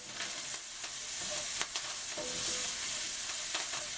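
Thyme sprigs cooking in a pan with beef short ribs give a steady, moderate sizzle with a few light stirring clicks and scrapes, and no talk.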